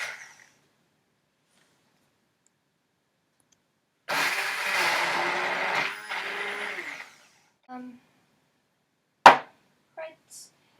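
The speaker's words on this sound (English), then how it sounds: "I'm going to use a handheld blender and just a mug" Handheld blender whirring for about three seconds in a mug of chinchilla syringe feed, starting abruptly and cutting off, followed by a few faint clinks and taps in an otherwise quiet room.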